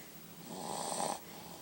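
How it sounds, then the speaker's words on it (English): A sleeping child with a runny nose snores once during a morning nap, a soft, close, nasal inhaled rasp lasting about half a second amid quiet breathing. "Snoring."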